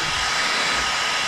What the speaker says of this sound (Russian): чтобы фен нагрелся